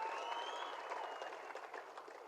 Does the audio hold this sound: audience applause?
yes